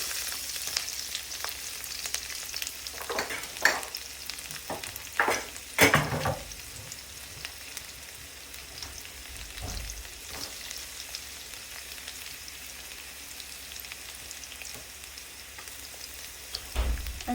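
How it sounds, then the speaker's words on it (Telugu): Garlic sizzling in hot oil in a pan with a steady fry hiss, plus a few louder crackles and stirring clatters early on; no one speaks. "ఇప్పుడు ఈ ఆయిల్లో మనం ఫస్ట్గా ఎల్లిపాయ వేసుకుందాము."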